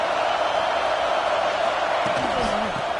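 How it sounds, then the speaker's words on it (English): Alabama football crowd at Saban Field on third down, a loud, steady roar of many voices that holds unbroken throughout, with a brief faint voice rising near the end. "The Tide crowd rolling noise down onto Saban Field on third down"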